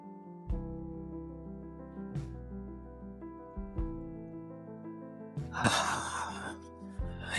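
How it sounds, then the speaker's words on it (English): A single deep inhale taken during guided breathing rises as a breathy rush near the end. It sits over soft, sustained background music and is otherwise quiet. "another inhale. And another inhale."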